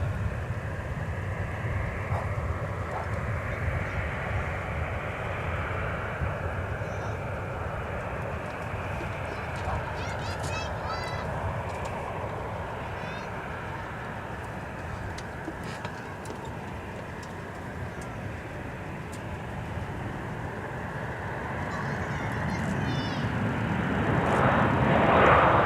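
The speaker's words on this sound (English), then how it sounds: "And arriving on the north side, back from a training mission, the Minnesota Air National Guard. It's a C-130 Hercules." A C-130 Hercules military transport of the Minnesota Air National Guard arrives back from a training mission on the north side of an airport, its steady broadband engine roar continuous throughout and swelling louder near the end.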